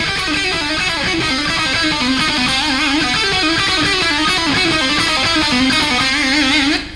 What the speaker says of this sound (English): You can do more pull-offs if you want to, which sound kind of like this.